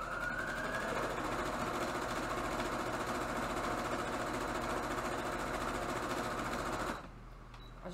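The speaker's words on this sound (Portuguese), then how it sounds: "vou costurar a cabeça, deixei pra máquina, aqui minha agulha" A sewing machine stitches the head of a crochet angel in a steady, continuous close drone that stops abruptly near the end, with no talk.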